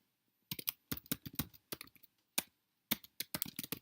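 Typing on a computer keyboard: close, crisp key clicks in short irregular bursts with brief pauses, quiet overall and with no talk.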